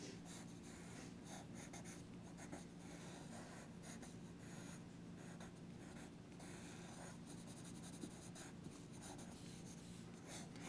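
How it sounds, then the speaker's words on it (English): A Tombow pencil sketches on paper in quick, close scratchy strokes that come in irregular bursts, light and dry, continuing throughout with no talking. "go back in with my Tombow pencil and just nail"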